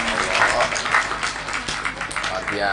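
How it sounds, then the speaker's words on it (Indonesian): Applause from a crowd gathered at an Indonesian religious talk, close and steady clapping mixed with voices. "tepuk tangan untuk Bu Sumiati"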